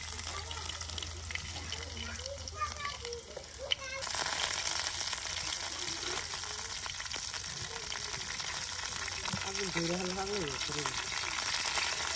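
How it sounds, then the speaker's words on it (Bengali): Garlic fries in oil in a pan with a steady, loud, hissing sizzle that jumps up partway through and then holds. Voices talk over the frying at times. "রসুন একবার ভাজা ভাজা করে নেওয়া হচ্ছে"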